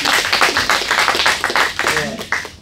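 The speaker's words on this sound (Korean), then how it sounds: "이럴 때는 박수를 한번 쳐주세요." An audience at a farming lecture on chili pepper cultivation claps in a quick burst of many separate sharp hand claps, loud and close, with a voice briefly audible near the end.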